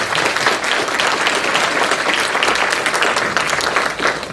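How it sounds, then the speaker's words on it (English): Sustained audience applause fills a room at a youth awards dinner, steady and dense from start to finish with no voices over it. "So I'd like to give them a round of applause."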